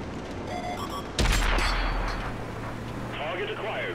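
A tank cannon fires once in World of Tanks, a sudden heavy boom with a deep low rumble that fades over about two seconds. A few quieter mechanical tones come before and after the shot.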